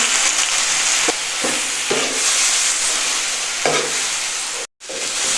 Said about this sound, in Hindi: तो इसे इस फैट में इसे हमने पकने देना है।